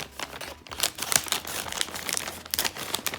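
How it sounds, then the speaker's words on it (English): Plastic packaging crinkles and tears close up as a package of catfish is opened in a home kitchen, with irregular rustling bursts throughout and no talking. "I'll go ahead and open the catfish"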